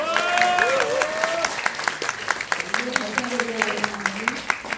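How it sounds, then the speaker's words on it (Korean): Audience applause at a public forum, dense clapping spread across the room under a speaker's voice and a sliding musical tone, with sharper individual claps standing out as it continues. "부정선거 국민 대토론회를 이끌 우리 위금숙 박사님께 격려와 응원의 박수 부탁드립니다."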